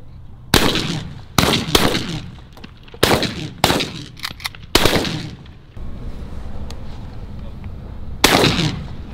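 A 28-gauge shotgun fires at pigeons during a hunt, giving a string of loud, close, sharp blasts, some in quick pairs, with a pause before a final shot.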